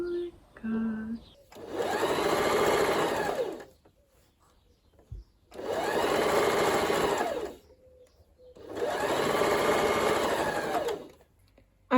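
A sewing machine stitches a corset top outdoors, close and loud. Three runs of steady whirring last about two seconds each, separated by quiet pauses, with a short bit of other sound at the very start.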